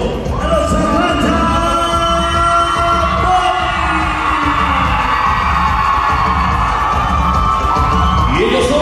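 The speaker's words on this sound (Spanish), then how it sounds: "Damas y caballeros, vamos a recibir con un fuerte aplauso a los Atlanta" A loud crowd at a huapango and tribal dance contest cheers, whoops and shouts to welcome the Atlanta Boys team, a sustained roar of voices with whistles and yells and little distinct clapping.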